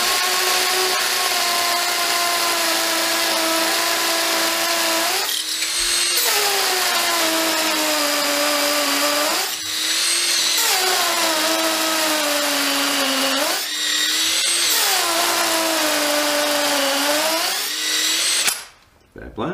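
A Makita DTP141Z cordless impact driver drives an 8mm screw in repeated bursts, each a loud whirring rattle lasting a few seconds, separated by short pauses, with a final burst ending abruptly.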